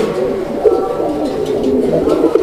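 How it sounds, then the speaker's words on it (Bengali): A male pigeon coos loudly and close after seeing a female, sending out a continuous stream of low, rolling, throaty calls. "মাদি দেখার সাথে সাথে ডাকের ধরনই চেঞ্জ হয়ে গেছে।"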